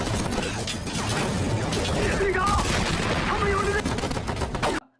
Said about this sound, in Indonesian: Suara tembakan itu akhirnya memancing kedua kubu untuk saling baku tembak.